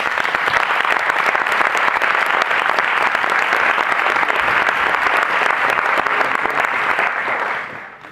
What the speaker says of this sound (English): An applause for all the families sitting today here and for those who couldn't come.